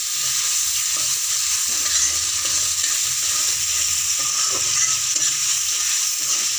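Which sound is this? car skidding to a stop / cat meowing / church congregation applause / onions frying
onions frying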